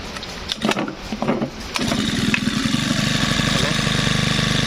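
A small four-stroke grass trimmer engine starts up and settles into a steady, buzzing idle, close by and continuous after a few sputtering bursts.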